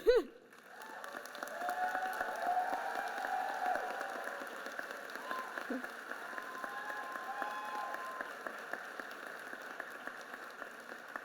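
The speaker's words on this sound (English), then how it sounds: "let's give ourselves a round of applause" Graduates and guests applauding at a doctoral ceremony, a sustained wash of many hands clapping from a large crowd that swells then slowly thins over about ten seconds, heard from a distance in a big hall.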